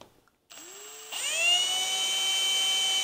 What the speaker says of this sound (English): So it looks like I use a 1/8 bit for this.